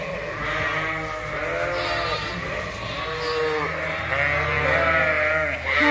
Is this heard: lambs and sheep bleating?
yes